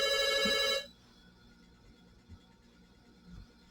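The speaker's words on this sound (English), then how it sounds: "I got to do something about this phone ringing." A telephone bell rings loudly for under a second, then cuts off, leaving a quiet room with a few soft bumps.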